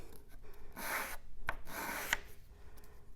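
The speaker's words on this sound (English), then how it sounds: "And these are good to learn, to practice sanding, holding your sandpaper down." Sandpaper rubs across wood in a few short, raspy strokes, close and fairly quiet, with brief pauses between passes.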